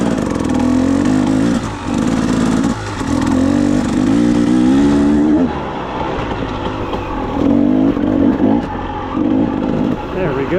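A dirt motorcycle climbs a wooded trail hill, its engine loud and close, droning and revving in surges with brief dips as the throttle eases.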